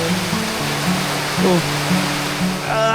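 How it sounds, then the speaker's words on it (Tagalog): Heavy rain pours onto a hammock tent during a windy storm, a steady broadband roar filling the whole stretch, with a voice briefly exclaiming over it. "Saka yung mismong buhos ng ulan."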